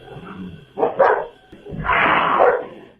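Two dogs near a trailer in a farm yard bark at close range, first a short double bark and then a longer, harsher run of barking.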